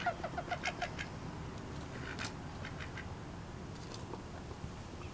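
Wild ducks quack while being hand-fed, opening with a quick run of rapid close calls, then sparser, fainter quacks and squawks over a low ambient hum.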